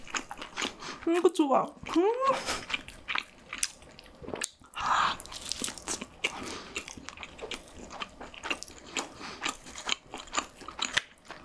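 Bistro pizza with sausage is bitten from the crust end and chewed with moist, crunchy, close-up mouth sounds that repeat in quick bursts, while a voice speaks briefly partway through.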